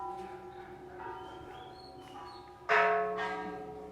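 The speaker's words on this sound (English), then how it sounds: "they got the bells for people to come over and clank on" Thai temple bells at Wat Ko Kaeo in Ayutthaya ring out faintly, with soft metallic tones drifting at a distance, then one louder clank near the end whose ringing lingers and decays.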